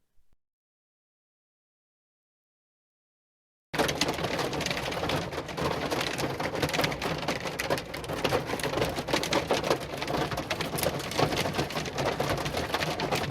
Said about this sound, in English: That incredibly annoying sound you hear is pea-sized hail hitting my truck